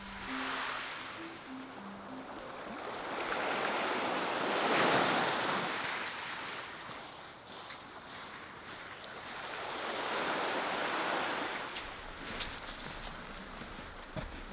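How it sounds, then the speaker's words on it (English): Waves wash onto the Lake Superior shore at Pictured Rocks, with slow surges of surf swelling and fading, mixed with gusts of wind buffeting the microphone. "The sounds of the waves and the surreal landscape created a dreamlike ambiance."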